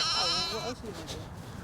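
A sheep at lambing time gives a short, wavering bleat close by, followed by faint rustling and indistinct human voices.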